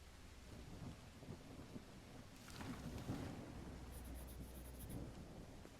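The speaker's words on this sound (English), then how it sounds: "It's raining cats and dogs here." Steady rain with a rumble of thunder in the horror adventure game Call of the Elder Gods, a continuous downpour swelling midway, with a brief high ticking near the end.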